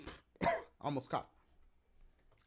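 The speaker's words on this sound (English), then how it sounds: "I did cough, but it's like I tried not to." A suppressed cough from a gamer playing Super Mario Maker, a few short muffled bursts close to the microphone, followed by quiet room tone.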